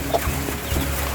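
Young chicks under a month old on a farm, soft clucking and peeping calls close by, a few brief chirps over a steady low background.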